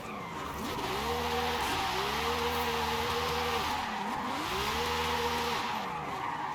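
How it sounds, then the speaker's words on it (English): A car drifts in Forza Horizon 5, its engine revving and dipping in rhythmic swells while tires squeal continuously through repeated slides, loud and close with no talking. "Look how smooth this thing actually is for point drifting, man."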